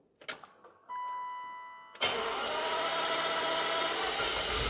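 A BMW E31 850i V12 with no fuel pressure cranks briefly and then catches and fires into a steady, strong, loud idle that keeps running. No one speaks.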